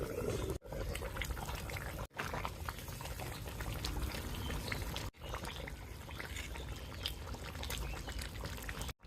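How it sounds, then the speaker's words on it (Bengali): Desi rooster curry simmers in a pot over a clay stove, with a steady close bubbling and gurgling that runs throughout, broken only by a few brief gaps. No voices are heard. "মিনিমাম 20 মিনিট জাল করে নিব, যেহেতু দেশি মোরগের মাংস সিদ্ধ হতে সময় লাগবে।"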